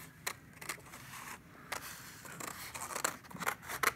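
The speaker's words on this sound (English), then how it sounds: "And then you'll take your scissors and cut it out." Scissors snip through black paper while cutting out a tree trunk shape for a handprint art project, a series of close, crisp cuts in an uneven rhythm with short pauses as the paper is turned.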